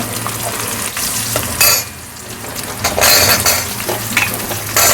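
Whole garlic cloves and small shallots frying in hot oil with curry leaves for a traditional lentil-ball kulambu, a steady close sizzle with bursts of louder crackling and occasional stirring scrapes.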